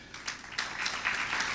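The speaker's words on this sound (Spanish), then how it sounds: "Démosle un aplauso al hermano." Light applause from a church congregation for a brother called forward, fairly faint and a little distant, rising in short bursts and continuing to the end.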